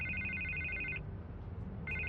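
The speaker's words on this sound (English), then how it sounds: "I can't get the phone to stop ringing." A telephone rings in a video game scene set in a city, its electronic trill sounding steadily, pausing for a moment, then starting again over a low background hum.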